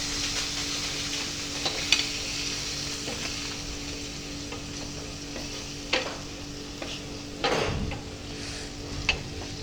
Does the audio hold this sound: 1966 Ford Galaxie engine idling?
no